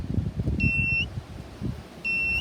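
A gold metal detector pinpointer gives two sharp electronic beeps, each about half a second long and separated by a pause, over low handling noise close to the device.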